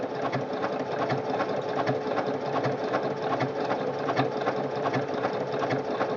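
A Singer Quantum Stylist 9960 sewing machine runs a decorative stitch with a braiding foot, giving a fast, even mechanical whir and ticking that stays close and steady throughout without pause.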